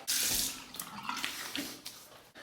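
Running water from a faucet splashes into a sink while the face is rinsed after a shave. The sound is soft and close, with irregular splashing from the hands and no talking.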